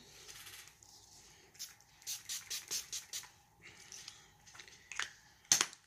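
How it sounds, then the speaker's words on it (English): Several short, sharp spray bursts hiss close by in quick succession, then a pause, followed by a few more scattered sprays. "spray my setting spray on."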